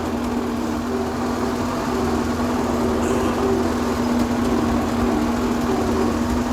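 A farm vehicle's engine runs steadily as it pulls away in a sunflower field, a constant mid-pitched droning hum with a clear tonal whine that holds at even loudness throughout.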